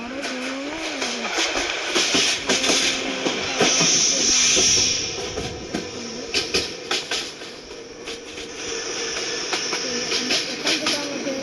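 Khulna Express train in Train Simulator Bangladesh rolls along with a steady rumbling drone, hissing bursts and a faint high whistle tone, rail clatter pulsing throughout.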